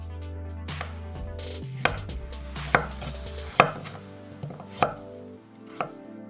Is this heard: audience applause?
no